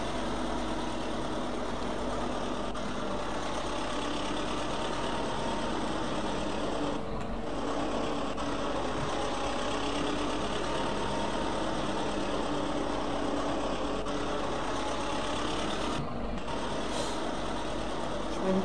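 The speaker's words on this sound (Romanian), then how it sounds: "Și am luat tractorul cu presă, să mai iau o greblă." A tractor carrying a baler, driven on a Romanian hayfield during the first mowing of 2022, runs steadily throughout with a loud, continuous low engine drone and no break in the sound.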